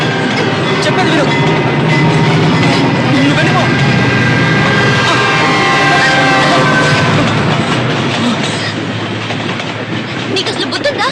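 A train rolls past on a railway track with a loud, continuous rumbling roar and clattering wheels, filling the whole clip at close range.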